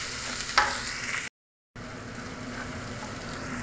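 Chicken curry ingredients fry and get stirred in a pan, giving a steady close sizzle with a spoon scrape, cut off by a short silent gap before the sizzling resumes.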